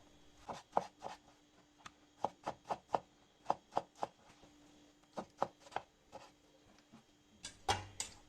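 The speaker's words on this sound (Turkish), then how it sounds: "Şimdi domateslerimi yine kuşbaşı doğrayacağım." Tomatoes being diced into cubes with a knife on a board, soft separate chops at an uneven pace, close and quiet, with a clatter near the end.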